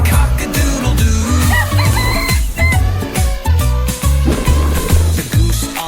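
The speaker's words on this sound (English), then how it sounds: "says cock-a-doodle-doo" Rooster crowing as part of a lively children's farm-animal song, with the crow set over steady, upbeat music and a bouncing bass line.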